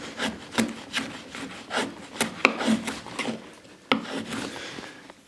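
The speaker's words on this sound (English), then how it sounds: "And we'll just take some fine shavings." A freshly sharpened cheap chisel pares fine shavings off wood, producing a series of short, crisp scraping strokes with a few sharper ticks, close and quiet with no talking.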